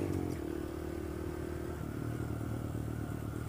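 A 2015 Honda Grom small motorcycle engine drones steadily and fairly close, with a brief pitch shift partway through and a rumbling, clattering texture throughout.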